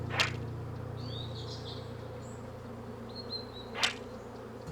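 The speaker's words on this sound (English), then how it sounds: "Like, this bee was about to attack me." Insect buzzing in the video game Wytchwood, a faint steady drone under a low hum, with two sharp whooshing hits and a few short chirpy tones in between.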